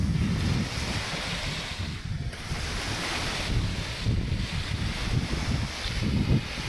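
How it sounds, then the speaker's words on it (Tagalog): Sea waves wash continuously onto a beach, a loud, close surf roar buffeted by strong wind noise against the microphone, with no voices over it. "Napakaganda ng dagat. Napakalawak."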